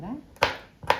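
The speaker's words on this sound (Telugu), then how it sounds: "ఇదే విధంగా మొత్తం మనం కట్ చేసుకోవాలండి, సన్న పీసుల్లాగా కాయలన్నీ." Cluster beans sliced into thin pieces, two sharp knife chops on a board in quick succession following a brief voice.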